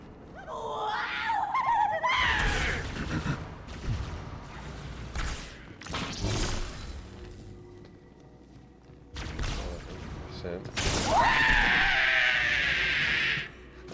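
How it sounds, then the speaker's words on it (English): A creature scream in Halo 2 breaks out at the start and again near the end, loud and shrill against booming gunfire, heavy weapon blasts and whooshes. "That's an interesting scream"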